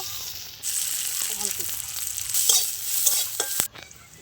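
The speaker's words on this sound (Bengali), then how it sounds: "রসুনগুলো ভালোভাবে ভেজে নেব।" Crushed garlic fries in a pan with a steady, close sizzle, and a utensil stirs it in short scraping strokes. The sizzle starts suddenly and stops sharply near the end.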